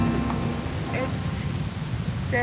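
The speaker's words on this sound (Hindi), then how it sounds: "बहुत बारिश हो रही है बाहर" Heavy rain pours outside a mountain trekking camp on the Hampta Pass route, a steady dense hiss filling the background with a few faint higher sounds over it.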